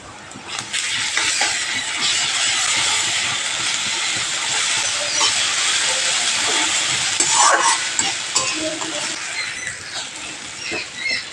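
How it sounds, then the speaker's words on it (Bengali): Ginger-garlic paste hitting softened onions in a hot pan, a loud continuous hissing sizzle that holds steady throughout, with a few faint clinks near the end and no voices. "পেঁয়াজটা হালকা করে ভেজে নিয়েছি, 1 চামচ দিচ্ছি আদা রসুন বাটা।"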